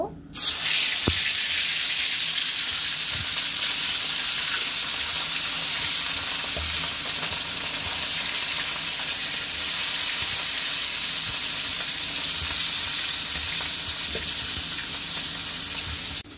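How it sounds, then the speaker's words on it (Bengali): Pieces of katla fish frying in hot oil in a wok make a loud, continuous hissing sizzle right up close that holds steady for the whole stretch, with no speech. "মাছগুলোকে এবার ভেজে নিতে হবে। এখন কাতলা মাছগুলোকে দিয়ে দিব।"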